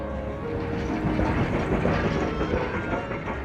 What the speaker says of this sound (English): The 8 o'clock goods train brings wagons and vans from all over the country.